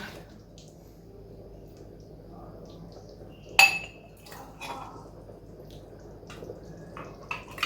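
Homemade breakfast sauce spooned into glass jars in a quiet kitchen, with one sharp, close clink of spoon on glass midway and soft scraping and tapping around it.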